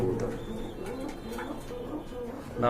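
Racing pigeons coo close by, soft throaty repeated calls over a low background murmur.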